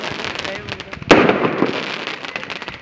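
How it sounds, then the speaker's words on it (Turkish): A sound bomb firework bursts with one sharp, loud bang at a fireworks show, followed by a crackling, rumbling tail while people talk nearby. "Ses bombası patladı."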